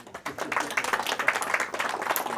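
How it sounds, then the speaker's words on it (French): An audience claps in a brief round of applause, a dense patter of many hands starting abruptly and continuing evenly for a couple of seconds, fairly close, with no voices over it. "Par applaudissement."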